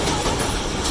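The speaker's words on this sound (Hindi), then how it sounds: "जंक्शन 48 टाउन रहमान बाबा एक्सप्रेस अप्रोच कर रही है।" Rehman Baba Express passenger train approaching a station, a steady, loud broadband rumble of rolling wagons and rail noise filling the whole moment with no break.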